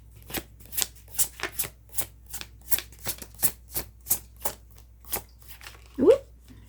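A tarot deck is shuffled by hand in a steady run of about a dozen crisp riffling bursts, each close and fairly soft. A short voiced sound comes near the end.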